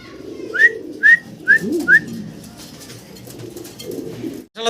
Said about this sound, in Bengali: নরকুন্ডা মাদি কুন্ডা ডাকতে আছে